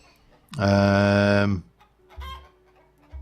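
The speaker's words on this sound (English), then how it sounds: "I think we need to do something about these chickens." Chickens clucking in a modded Minecraft-style farming game, one loud synthetic burst of layered clucks lasting about a second, followed by fainter scattered clucks and game ambience.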